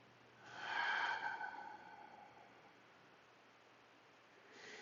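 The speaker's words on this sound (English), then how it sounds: "Slow breath out." A slow exhale during a yoga session, a soft breathy rush swelling and fading over a couple of seconds in a quiet room.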